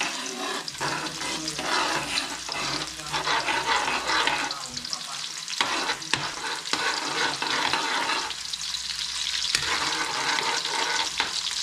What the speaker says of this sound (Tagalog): Sabay-sabay na natin malutin yung sibuyas, bawang.